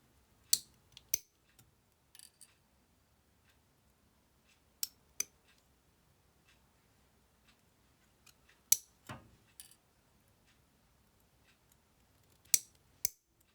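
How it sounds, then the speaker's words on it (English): Metal shears snipping jump rings from a coiled wire, sharp isolated clicks spaced irregularly over quiet, close and fairly faint, with no voices. "I will stop now and use my shears to cut my jumprings out"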